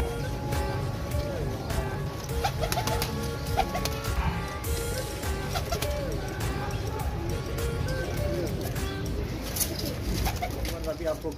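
Pigeons kept at a fancier's home coo and murmur continuously nearby, with occasional wing flutters, while someone talks over the birds.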